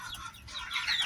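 Farm chickens clucking at close range in a short, busy burst of overlapping calls with a slight rise toward the end.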